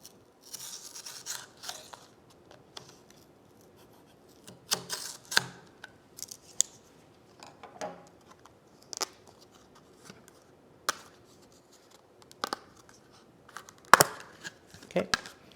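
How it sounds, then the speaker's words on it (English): Intermittent snips and crinkles of scissors cutting through plastic packaging, sharp clicks and rustles in short bursts separated by quiet pauses. "Use my trusty scissors."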